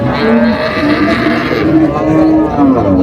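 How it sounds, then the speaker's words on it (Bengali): Several dairy cows and calves moo loudly and close by at Raniganj cattle market, Dinajpur, their low calls overlapping and repeating one after another. "গাভী বাছুর আমরা দেখছিলাম এখানে"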